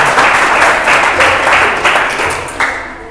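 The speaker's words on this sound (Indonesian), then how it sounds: "Tepuk tangan untuk temannya." Applause from an audience at a talk on hoaxes, a steady, moderately loud wash of clapping held throughout at one even level.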